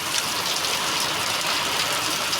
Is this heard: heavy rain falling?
yes